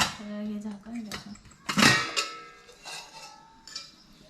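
A metal cooking pot's lid being handled, a couple of close clanks and ringing metallic knocks with a bright clang in the middle, while someone talks over it.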